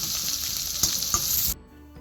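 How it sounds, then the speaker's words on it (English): Ginger and garlic sauté in hot oil with whole spices for a beef curry, making a loud continuous sizzle with a couple of stirring clicks before the hiss drops away abruptly. "To this, I'm going to add in ginger and garlic. Saute it until the raw smell of it goes away."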